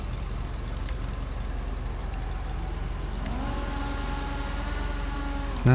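Engine of a Declasse Impaler LX car in GTA V idles with a low steady rumble, then revs upward in a rising whine toward the end, heard alone without talk.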